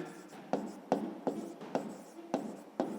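A pen writes a maths sum on paper, giving soft scratching strokes with a row of sharper taps about every half second, close and quiet with no voices.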